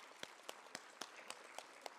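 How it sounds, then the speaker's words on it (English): Sparse, evenly spaced claps, about eight in two seconds, sound faint and a little distant, like a small group's light applause at a sixth grade promotion ceremony. "let's give them a round of applause"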